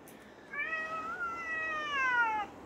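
A house cat gives one drawn-out, close meow that rises and then slowly falls in pitch, clear and alone over a quiet background.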